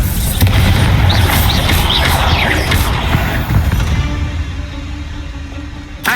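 Bombarda spell explosion in Hogwarts Legacy, a loud, close boom with a crashing burst of debris that fades over several seconds into a quieter rumbling tail, with a brief thud at the very end.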